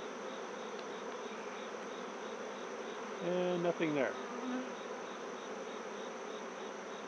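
Honey bees buzzing in a steady, dense drone during a beehive inspection, close and continuous, with a brief spoken remark partway through.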